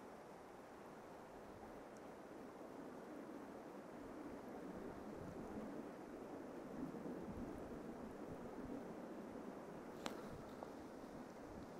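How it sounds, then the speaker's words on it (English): Wind swirls and gusts along a river bank during spring salmon fly fishing on the River Wear, a steady broadband rush with no voices, holding level throughout with one brief sharp tick near the end. "This wind's swirling a bit."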